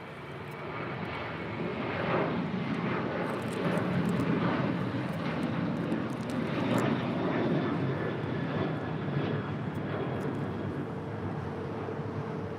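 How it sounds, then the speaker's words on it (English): A United airliner departing LAX for Seattle: a loud, sustained jet engine roar that swells over the first few seconds and holds steady throughout, heard alone with no talking. "That was United 1595 departing to Seattle"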